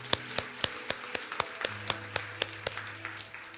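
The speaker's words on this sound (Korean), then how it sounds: "우리 하나님께 감사와 영광의 박수를 드리겠습니다" Sunday worship congregation clapping in church, a crisp, steady rhythmic beat of about a dozen claps, with a sustained low tone humming underneath throughout.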